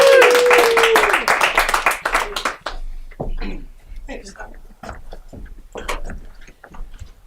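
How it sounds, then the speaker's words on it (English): A comedy club audience greets a comedian with a short, loud round of applause and a cheer that quickly dies down, leaving scattered claps and low chatter. "Give a round of applause for Dan Goldrosen"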